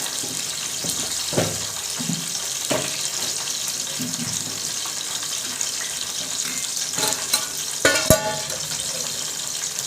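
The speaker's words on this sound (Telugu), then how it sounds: "ఒక స్పూన్ జీలకర్ర వేగింది కదా ఇందులోనే" Cumin seeds fry in a pan with a steady hissing sizzle and scattered crackles, moderately close.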